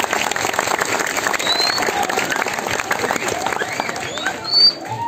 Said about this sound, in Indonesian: tepuk tangan untuk berselo yeah